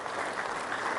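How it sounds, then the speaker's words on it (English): Applause for the assistant coach of the Opals women's basketball team at a junior training clinic, steady clapping from a small crowd that fills the whole short moment at an even level. "If we don't mind giving Laurie a round of applause."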